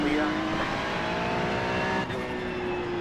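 Ferrari race car engine in the iRacing sim, a steady high-pitched drone with a brief dip near the two-second mark, heard close with a voice talking over it.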